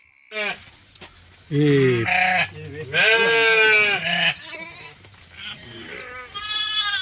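Sheep bleat repeatedly and loudly nearby, several drawn-out wavering calls separated by short pauses.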